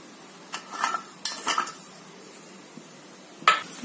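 A spoon clinks against a dish while gelatin goes into a mango milk pudding mixture, with a few separate metallic taps and scrapes set apart by quiet gaps.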